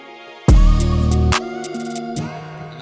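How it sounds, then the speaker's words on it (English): A string sample from the free Labs plugin in a melodic drill beat enters abruptly with a loud, full chord. It falls back after about a second into quieter sustained tones with sharp upper accents. "string sample from Labs"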